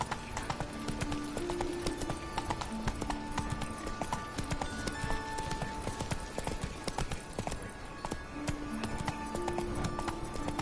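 Galloping hooves of Roach, Geralt's horse in The Witcher video game, a fast, continuous clip-clop rhythm running the whole time, with tonal game sounds layered over it.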